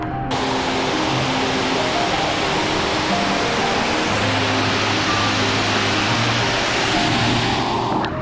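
Heavy monsoon rain and a nearby waterfall in the Shiradi Ghat make a loud, dense, steady roar that holds throughout with no break and no talk.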